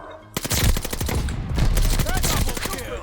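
Type 100 submachine gun fire in Call of Duty: Vanguard, rapid full-auto bursts that are loud and close, running almost continuously with short breaks and with the clatter of other weapons mixed in.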